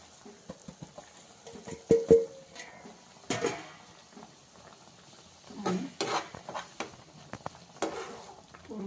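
Rice flour being stirred into boiling water in a pot for ukadiche modak dough, heard as quiet scraping and soft scattered clacks of the spoon against the vessel, with a few louder knocks, close and otherwise calm.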